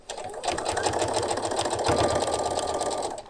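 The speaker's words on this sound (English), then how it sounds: "I'm just going to sew down, and I'm just going to carry on sewing all the way down to the end." A sewing machine runs steadily while stitching down quilt binding, its close, continuous motor whir and rapid needle rhythm holding for about three seconds before easing off.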